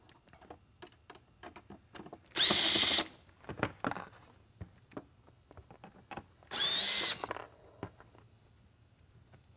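Two short bursts of a cordless power drill whir as screws come out of a Whelen Responder Linear Super-LED Mini Lightbar housing, loud and close, separated by light clicks and handling taps.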